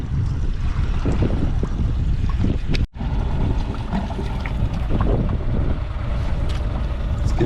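An outboard motor on a small second-hand project boat idles with a steady, loud, low rumble and a brief dropout partway through.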